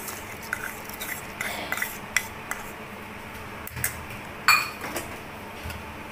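A spoon stirs tamarind chutney with grated jaggery and sugar in a pot, making light scraping and occasional sharp metallic clinks against the pot's side at an irregular pace.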